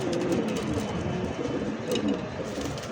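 Male pigeon of a fancy breed such as Lahori, Bombay, racer or Danish cooing in a loft, soft low repeated coos under steady background noise.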